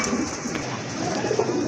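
Pigeons coo steadily at a market stall selling pigeons, including deep red birds, with a soft, continuous burbling murmur close by and no speech over it.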